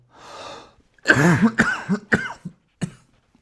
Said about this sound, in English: I've got a dry, tickly cough